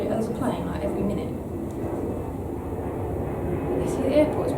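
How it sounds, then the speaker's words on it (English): An airplane flies overhead near an airport, a steady broad roar that holds for several seconds at moderate loudness, filling the background without any clear rise or fall. "bloody plane's driving me mad"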